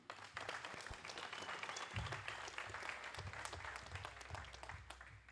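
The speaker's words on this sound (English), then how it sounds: "let's give a round of applause to what's going on here today" Crowd applause at a bare-knuckle fighting press conference, dense sustained clapping from many hands with some crowd murmur and a low hum underneath, steady and faint.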